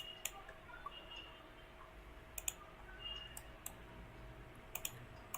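Computer mouse clicks on a desk, a handful of sharp, sparse clicks spaced irregularly over faint room hum, quiet and close.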